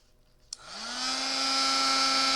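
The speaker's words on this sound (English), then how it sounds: "Heated up, it's going to emboss quickly because the tool doesn't have to warm up" Heat tool switching on with a click and spinning up into a steady whooshing hum as it melts silver embossing powder on a holiday card, rising in pitch over the first second, close and continuous.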